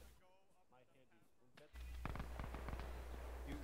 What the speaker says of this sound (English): We're getting fired upon.